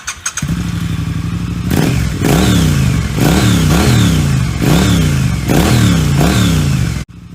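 A motorcycle idles briefly, then its engine is revved hard again and again in first gear on a neighborhood street, about six loud rising-and-falling blasts of throttle in steady rhythm, close by, before cutting off abruptly.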